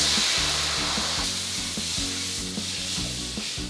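Water poured into a hot wok of oil and dried chilies for crispy fried pork intestines sets off a loud, steady sizzle and hiss with rhythmic low scraping or stirring strokes underneath.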